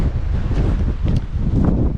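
Strong wind outdoors along the River Roy in Glen Roy, Scotland, buffeting the microphone with a loud, continuous low rumble and gusty roar that fills the short moment.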